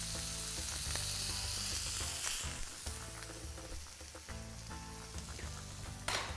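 A couple of salmon pieces sizzle and fry in a pan, steady and close, with occasional sharper crackles and a bright spitting burst near the end; no one speaks.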